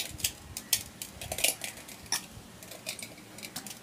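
Fish pieces handled in a bowl for fried fish, quiet scattered clinks and taps of metal utensils against the bowl, irregular and close.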